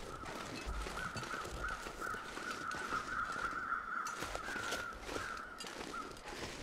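Crows caw repeatedly in the survival video game The Long Dark, a steady series of harsh calls over continuous outdoor wind ambience, with no talk.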